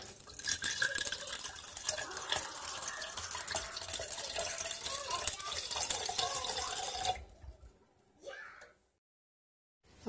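Reverse osmosis waste water runs steadily from a drainage tube into a cup outdoors, a continuous splashing pour that stops abruptly near the end, followed by a short faint trickle and silence.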